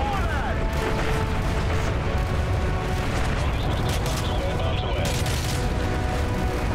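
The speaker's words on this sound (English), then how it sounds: "Here come the bombs." Bombs exploding in the Modern Warfare 3 campaign mission in Paris, a loud, sustained rumble of blasts and debris with continuous battlefield noise and no pauses.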